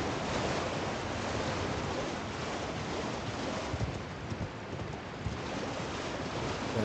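Rushing waterfall in the video game Elden Ring, a steady broadband roar of falling water that fills the whole clip at constant loudness, with no talking.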